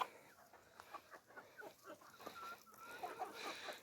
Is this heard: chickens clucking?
yes